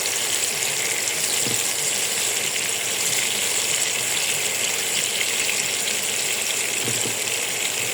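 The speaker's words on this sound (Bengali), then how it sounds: "এই বেগুনগুলো উল্টা পাল্টা করে ভালো মতো ভেজে নেব।" Eggplant slices frying in a pan give a steady, dense sizzle and hiss that runs without a break, close and fairly loud, with a couple of faint low bumps as the pieces are turned.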